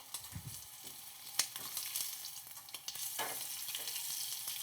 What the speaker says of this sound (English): Let me show you what the magic is as I turn the scallop